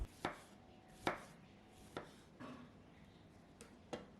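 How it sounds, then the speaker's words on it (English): A knife slicing a tomato into wedges on a board, with about six sharp separate cutting knocks at uneven intervals, close and quiet, with no voices. "Slice 1 tomato, about 100 grams, in 2 wedges."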